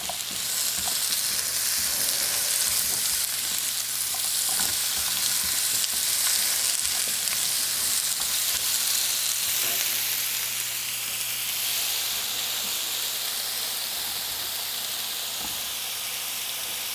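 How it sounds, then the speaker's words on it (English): Peeled, sliced zucchini and yellow squash sautéing in a little olive oil and butter, a loud, continuous close-up sizzle and hiss with faint stirring underneath. "A good way to use zucchini and yellow squash is to saute it in a little olive oil and butter"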